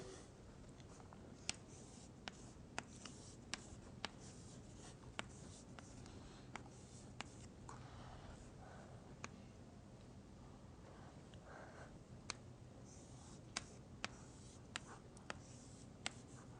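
A lecturer writes on a board in coloured chalk during a mathematics lecture, making a long run of faint, quiet taps and scratches with irregular strokes, each one short and crisp, heard without talk in a hushed room.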